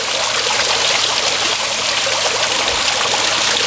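Water pours down a large vertical garden waterfall in winter, a loud, close, continuous splashing rush with no voices.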